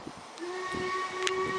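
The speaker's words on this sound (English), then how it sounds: "you can still hear that steam train in the distance." A steam train whistle sounds in the distance near Penrhyndeudraeth, a faint sustained tone held under light outdoor background noise, with brief rustles and bumps nearby.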